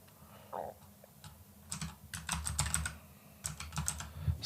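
Keys clatter on a computer keyboard as a Python script is typed, with irregular bursts of close, crisp keystrokes separated by short pauses in a quiet room.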